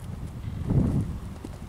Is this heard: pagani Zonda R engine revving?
no